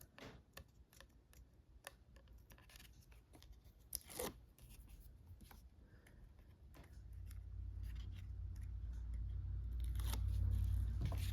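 Scissors trimming paper for a detective folio craft: a quiet series of short, sharp snips and crisp cuts, spaced irregularly, with a low rumble building toward the end.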